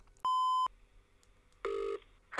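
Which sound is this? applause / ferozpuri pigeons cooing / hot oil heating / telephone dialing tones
telephone dialing tones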